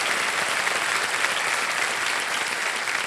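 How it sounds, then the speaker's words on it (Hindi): Studio audience applause on a quiz show set, a dense, even roar of many hands clapping at once, sustained and unbroken for a few seconds. "तालियों के साथ इनका स्वागत करते हैं।"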